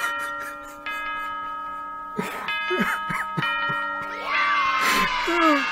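A bell chime rings out in the horror game Five Nights at Freddy's, a steady tolling of sustained tones with several repeated strikes, moderately loud over a busy game background.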